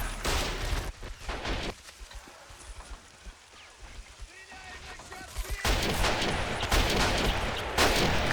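Machine gun and rifle fire in the WWII-style strategy game Men of War: Assault Squad 2, bursts of shots coming in clusters at the start and again more densely toward the end, with a quieter stretch of scattered battle noise between.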